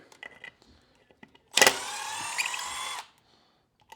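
A cordless impact wrench with a 1/2 inch deep-well flip socket fires in one loud, sustained burst of rapid hammering that lasts about a second and a half, with faint handling clatter before and after.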